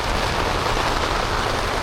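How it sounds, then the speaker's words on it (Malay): Heavy rain pours down at 2 a.m. at a highway rest stop, a loud, dense, unbroken hiss of drops hammering the surface with no pauses and no voices. "Pukul 2 pagi, hujan lebat."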